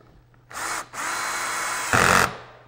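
A power drill drives pocket hole screws into a clamped trim joint, two close whirring bursts with a short gap between, the second rising in pitch and strain as the screw seats.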